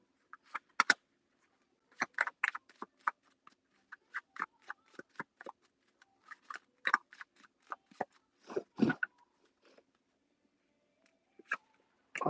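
Quick bursts of tarot cards being riffled and shuffled, irregular and close, with short pauses between flurries and no talking.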